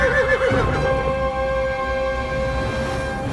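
A horse whinnies loudly and close, a wavering high neigh that trails into sustained tonal calls, heard alone without speech.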